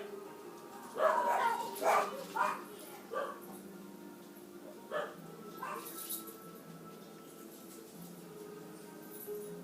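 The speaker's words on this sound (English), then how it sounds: "I swear, 4 dogs and 3 of them bark at nothing." Several dogs bark and yip in a burst of sharp, close barks early on, then scattered fainter barks and whimpers follow under a steady room hum.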